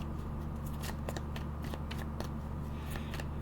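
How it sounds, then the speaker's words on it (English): Tarot cards being shuffled by hand, a rapid run of crisp riffling and slapping bursts over a steady low hum, close and continuous. "Let me start shuffling."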